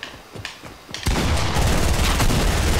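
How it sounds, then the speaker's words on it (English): Gunfire in a Fortnite team deathmatch: a few scattered shots, then about a second in, loud sustained automatic fire that keeps rattling without a break to the end. "Oh, I can't shoot without aiming in."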